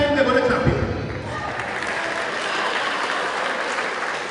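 An audience at a Caribbean heritage celebration applauds a Dominica representative, a broad wash of clapping that swells and holds steadily, with a voice over it at the start.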